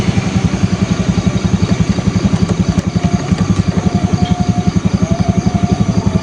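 A Honda BeAT carburetor scooter engine idles close by, a steady low rapid putter with even pulses and a faint background hiss throughout.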